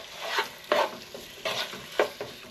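Food stir-frying in a tall pot, with repeated scraping stirs and bursts of sizzle about every half second to second, close and moderately loud.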